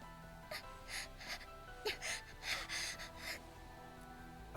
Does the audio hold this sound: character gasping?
yes